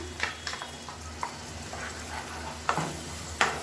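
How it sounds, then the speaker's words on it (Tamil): Spicy kara chutney is stirred as it fries in oil: a soft, steady sizzle with a few sharp spoon scrapes and taps against the pan, fairly quiet and close. "லேசாக அந்த எண்ணெயில் நல்லா பரட்டி விட்டுட்டு அமர்த்திடலாம்"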